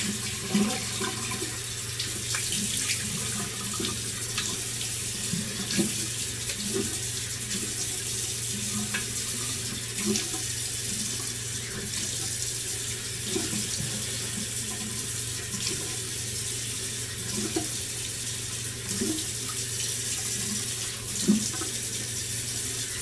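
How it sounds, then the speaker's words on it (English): Tap water runs steadily into a bathroom sink for rinsing the face after a razor shave, a continuous close hiss with small splashes throughout and no talk. "Wash off here with cold water."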